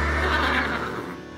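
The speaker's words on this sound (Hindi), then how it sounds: "ये घोड़ा है। घोड़ा कहता है।" A single horse on a farm gives a loud, close neigh, a shaky whinny that fades over about a second with no other sounds around it.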